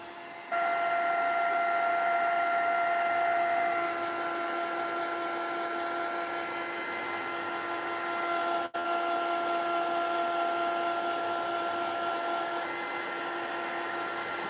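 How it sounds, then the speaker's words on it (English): A heat gun blows steadily while drying glue on a mixed-media spring home decor piece, a continuous whirring hiss with a fixed tonal hum running close and loud from start to finish, with one brief dropout partway through. "I dry everything with the heat gun until I can see my glue turns transparent"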